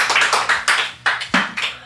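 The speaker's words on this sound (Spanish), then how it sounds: "un aplauso para Alejandro." Studio audience applause: a short run of sharp, closely miked hand claps in an uneven rhythm, roughly eight distinct smacks in under two seconds, with no voices over them.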